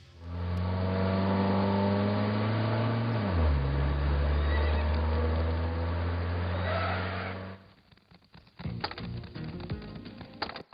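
Horses neigh loudly and at length in a film scene, a long shrill whinny that falls in pitch midway, followed by a brief pause and rougher snorting and stamping noises.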